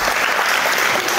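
On a French quiz show, the studio audience breaks into loud, dense applause, a brief continuous burst of clapping with no gaps.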